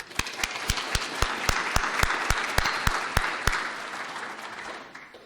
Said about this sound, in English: I would like a round of applause again for Orange Blossom, Greta, Isabel and Troy and Max